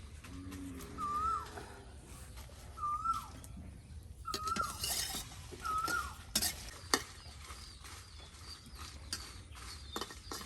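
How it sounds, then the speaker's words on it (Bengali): Chilies are stir-fried in a pan in a rural kitchen on a rainy day. Steady sizzling runs under repeated scraping stirs and occasional metallic clinks, while faint bird chirps sound in the background. "সুন্দর করে একদম ভাজা ভাজা করে নেওয়া হচ্ছে মরিচ"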